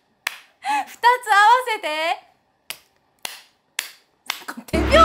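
Several sharp, evenly spaced hand claps replace chanting a name during an AKB48 member's catchphrase, following a short stretch of speech and ending under a louder burst of noise.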